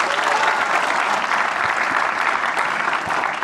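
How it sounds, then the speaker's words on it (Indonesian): Dense, steady applause from a live audience at an elimination show, filling the whole stretch at a strong, even level with a faint murmur of crowd beneath. "Tepuk tangan Pak Bayu, teman-teman."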